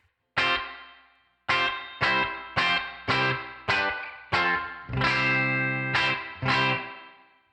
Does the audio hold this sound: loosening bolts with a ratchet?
no